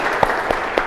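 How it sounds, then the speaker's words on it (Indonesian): Three evenly spaced claps ring out over a steady background hiss in a university classroom, a sparse, rhythmic group clap rather than a full ovation. "tepuk tangan untuk kita semuanya"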